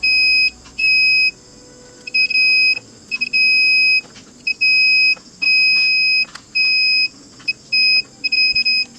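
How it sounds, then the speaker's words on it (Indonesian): A multimeter in buzzer continuity mode tests a switch taken from the circuit board of a Polytron PSC 35WB radio, giving loud, sharp, high-pitched beeps in short and longer bursts with quiet gaps between them. "lakukan pengujian koneksi saklar dengan mode buzzer pada multimeter"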